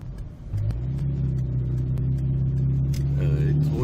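During a driving lesson in city traffic on Konya Road in Ankara, a car engine rises in pitch as the gas is pressed, then holds a steady, close hum, with a brief voice near the end.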